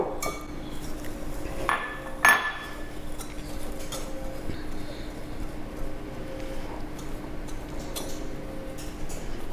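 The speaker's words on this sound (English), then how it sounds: "Mix it to crush the pieces of almond flour" A spoon stirs almond flour into dry ingredients in a bowl for a vegan chocolate cake, giving soft scraping and a few sharp clinks against the bowl, one louder clink standing out early, under a faint steady background hum.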